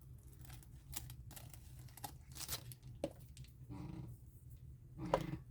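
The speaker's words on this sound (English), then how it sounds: "So I will get my big scissors and cut that." Big scissors cutting through material, a series of crisp snipping and tearing crunches with soft crinkling between cuts, close and moderately loud with no talking.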